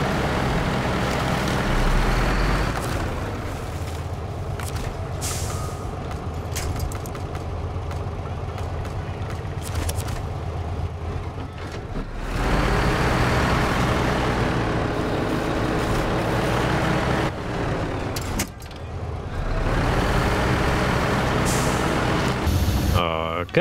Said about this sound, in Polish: muszę podjechać inną ciężarówką, żeby postawić go na koła i wznowić wyzwanie